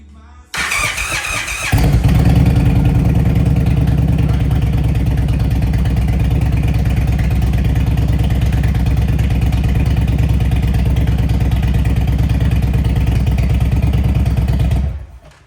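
A cold Indian Springfield motorcycle engine cranks with a short whir, catches, and settles into a loud, steady, throbbing idle. It runs close by for about thirteen seconds before cutting off.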